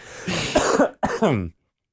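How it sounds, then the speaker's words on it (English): Two close, harsh coughing bursts, one right after the other, then silence. "sorry, I just had a cough there."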